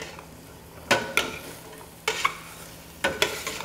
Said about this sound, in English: And we stir that around